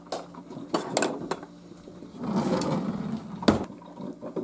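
Cutlery and dishes clink in a lodge kitchen in short, sharp bursts at close range, with a few scattered metallic taps and a busier rattle in the middle.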